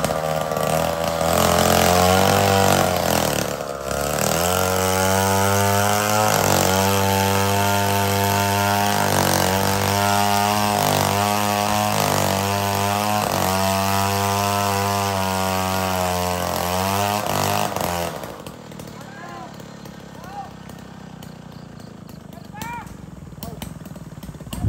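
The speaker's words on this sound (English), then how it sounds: "Big chainsaw." A big chainsaw roars loudly for a long stretch, cutting wood into lumber in the Philippines, its engine pitch rising and dipping as it bites through, then cuts out, leaving quieter background sounds.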